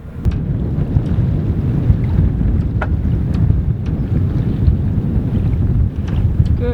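Strong wind buffets the microphone aboard a sailing catamaran in the West Indies, a steady loud roar of low gusts with faint creaks and slaps from the boat, and no voices.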